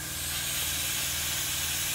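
Primer sprayed onto the underside of an Airfix 1/48 Hawker Sea Hurricane Mk.Ib plastic model kit gives a steady, close airbrush-like hiss that runs unbroken for two seconds.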